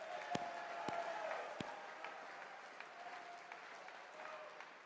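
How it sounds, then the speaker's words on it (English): Audience applause at CPAC, a conservative political conference, with a steady wash of many hands clapping and a few sharp, louder claps standing out, fairly faint and continuing throughout. "let's just give a big round of applause, huge thanks to Matt Schlapp and the team for the great work they do"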